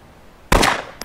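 A single loud gunshot rings out in the zombie survival game DayZ, a sharp blast with a short decaying tail, followed by a fainter click or clank a moment later.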